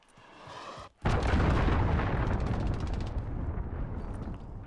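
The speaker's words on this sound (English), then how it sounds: "Enemy cruise missile." A cruise missile strike in Call of Duty: Modern Warfare online play lands as a sudden heavy explosion after a brief silence, followed by a long roaring rumble that slowly fades.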